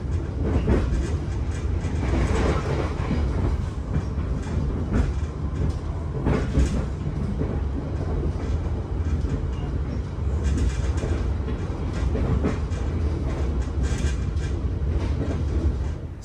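Argo Merbabu passenger train running between Haurgelis and Cirebon, heard as a steady loud rumble with rhythmic rail clatter and rattling from inside the carriage throughout.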